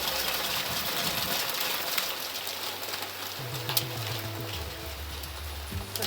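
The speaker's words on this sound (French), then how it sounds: "Là, nous, chez nous, on a quand même beaucoup de pluie." Heavy summer storm rain pouring down steadily, a dense close hiss of large drops hitting the ground, continuous and fairly loud throughout.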